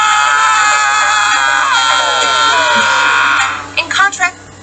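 A loud, sustained high-pitched cartoon scream from Courage the Cowardly Dog dominates, wavering in pitch before breaking off into a few short yelps.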